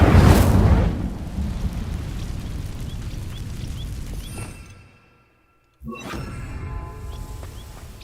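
Incendio fire spell cast in a Harry Potter game, a loud whooshing burst of flame at the start that fades into a rumbling roar, drops to silence, then returns as softer crackling ambience.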